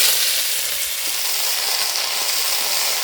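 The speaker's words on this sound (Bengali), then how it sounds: "এবার শাকগুলো দিয়ে দিচ্ছি কড়াইয়ের ভেতর।" Leafy greens frying in mustard oil in a wok give a steady, close, even sizzle that fills the whole stretch with a bright hiss and no talk.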